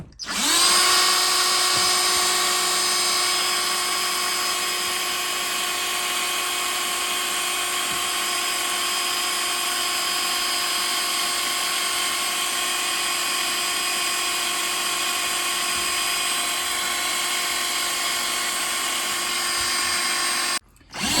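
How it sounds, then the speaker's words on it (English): A power drill boring a small pilot hole for a bench support leg whines steadily at high pitch for about twenty seconds, close and loud, starting and stopping abruptly. "I'm going to drill a small pilot hole."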